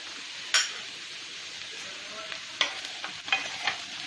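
Potato kara curry with sambar powder and chilli powder is stirred in a pan: a low, steady sizzle with a handful of sharp spoon scrapes and clinks, close up and with no talking.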